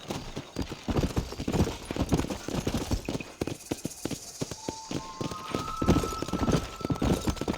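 Horse hooves clip-clop steadily at a walking pace in a Red Dead Redemption ranch scene, close and fairly loud, with an occasional snort and a faint musical tone drifting in.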